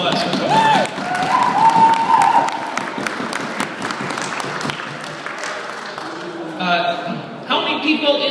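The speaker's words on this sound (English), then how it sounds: "Everyone give those people a round of applause for coming." Applause from an audience, a steady patter of many hands under a voice talking over it, fading toward the end.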